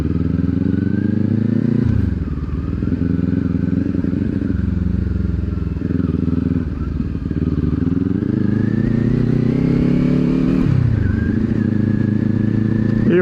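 A Kawasaki Ninja 400 motorcycle takes a corner, its engine loud and close with a steady drone that dips briefly during gear changes before climbing again as it accelerates out.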